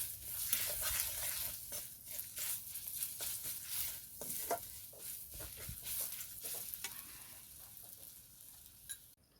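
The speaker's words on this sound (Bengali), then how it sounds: "স্বাদ মতো দিয়ে দেবো নুন। ভালো করে মিক্স করে নেব।" A spoon works through a rustic jackfruit kofta mixture seasoned with salt, giving close, steady scraping and stirring strokes with soft wet sizzle, continuous and moderately loud with no talking.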